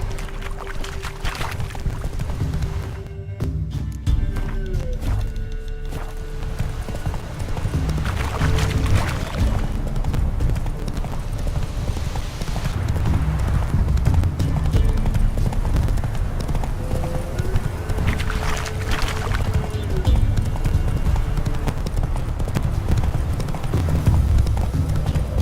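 Hooves of Roach, the horse in The Witcher 3, clip-clop steadily and continuously at close range over a busy game backdrop of ambient noise, with a brief neigh-like sound in the mix.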